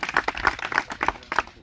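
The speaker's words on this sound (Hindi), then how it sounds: "हाँ, एक बार ताली बजाओ जोरदार।" A group at an indoor home meeting claps in a quick, even rhythm of roughly five sharp claps, close and moderately loud.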